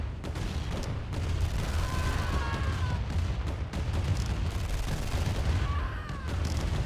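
Turrets fire on infantry during a C&C: Tiberian Dawn battle, a dense, continuous clatter of gunfire and small booms running throughout, with faint whistling shots overhead.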